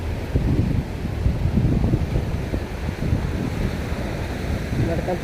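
Sea waves and wind at the Kanyakumari sunrise point on the coast, a steady, dense roar of surf with heavy wind buffeting on the microphone and no break throughout.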